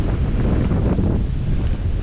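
Wind roars at the Port of Eden harbour on a rough day, a steady loud buffeting rush across the microphone with no speech.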